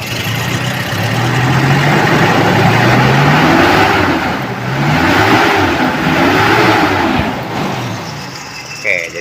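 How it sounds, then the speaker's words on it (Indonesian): A Toyota Kijang engine, just serviced for hard starting and stalling when the throttle is released, revs up and falls back several times at close range, loud, with a rough idle between the throttle blips. "Kita coba gas lagi"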